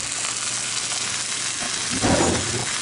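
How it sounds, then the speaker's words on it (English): A marinated chuck roast sears in a hot cast iron skillet with a steady, loud sizzle that swells briefly near the end as the meat shifts in the pan. "I'm going to sear this on both sides"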